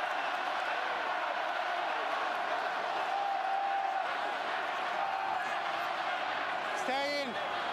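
Packed rugby stadium crowd at an Ireland versus New Zealand match, a dense, continuous roar of cheering that holds steady throughout, with a commentator talking faintly underneath.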